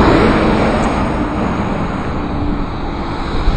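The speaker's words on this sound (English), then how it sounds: "Noisy truck." A loud, broadband roar of a passing vehicle fills the air outdoors, a continuous rumbling wash without voices.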